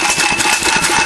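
Bessemer engine running on its first official run, a steady, loud, continuous mechanical drone with an even pulsing throb, heard alone.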